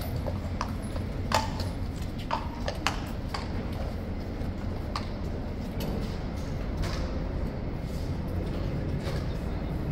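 King's Guard horses clip-clop on hard ground at Horse Guards, a steady run of sharp hoof strikes over a loud, constant crowd and outdoor bustle, no speech on top.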